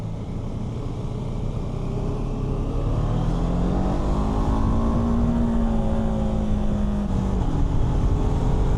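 BMW F450GS motorcycle engine pulling steadily uphill through hairpin bends, a smooth rising drone that holds loud and continuous, pitch climbing gradually before easing near the end.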